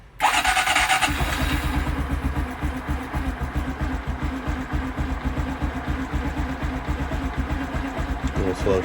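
A Honda Dax125 motorcycle in neutral is started: a brief whirring crank, then the engine catches and settles into a steady, close, evenly pulsing idle that continues loud throughout.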